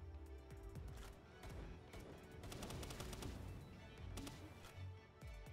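Gunfire in the video game Palworld, a quiet, steady patter of rapid shots and clattering impacts running throughout, faint and somewhat distant, with no talk.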